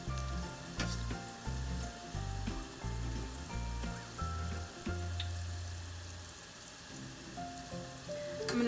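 Chile de arbol pieces fry in olive oil with a steady, fairly quiet sizzle, accompanied by low, rhythmic tonal thumps throughout.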